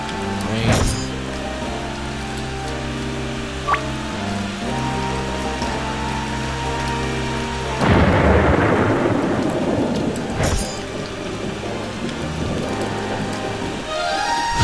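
Video game storm effects from an RPG Maker XP project: steady rain pours while thunder cracks and rumbles several times, layered over looping game music, with no talking.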